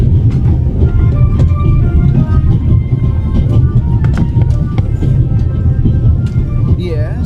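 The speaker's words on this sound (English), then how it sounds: "The noise on this train is driving me crazy." Constant rumbling clatter aboard the Orient Express in a video game, a loud low drone with faint intermittent rattles and clicks running under a person speaking.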